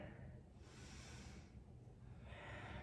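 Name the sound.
breathing in during yoga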